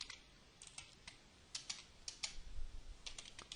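Fast, irregular clicks of typing on a computer keyboard while writing C# code, close and fairly quiet, coming in short clustered bursts with no talk.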